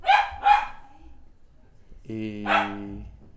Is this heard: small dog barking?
yes